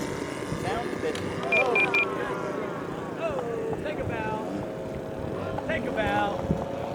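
A CY 84-inch span F8F Bearcat RC airplane engine drones in flight, a wavering buzz that rises and falls as it passes, with wind buffeting the microphone and someone talking over it.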